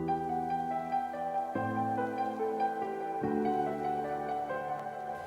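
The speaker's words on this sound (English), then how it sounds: "it gives a really cool dusty and vinyl sound effects on the whole piano" Layered piano chords from an electronic remake, coloured by a dusty vinyl effect from a Unison Zen Master plugin, sustain steadily at moderate level, changing harmony every couple of seconds with a faint crackly haze over the tone.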